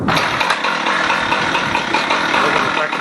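Husqvarna 455 Rancher chainsaw with its air filter removed, revving loud and close at a steady high pitch with a slight waver, continuous throughout with no pause.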